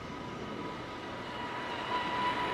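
A monorail tram in a radio drama, heard as a steady rolling rumble with a faint whine that swells slightly toward the end, with no voices.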